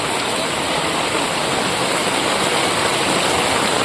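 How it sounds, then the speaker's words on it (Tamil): Floodwater rushes in a dense, unbroken roar after heavy rain in Tirunelveli district, India, loud and close, like a fast torrent pouring steadily near a temple with no pauses and no voices. "ஓடல எவ்வளோ தண்ணி போய் பாருங்க"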